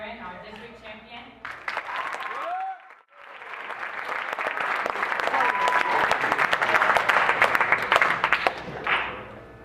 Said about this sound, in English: can you guys please clap it up for Aaron, our district champion?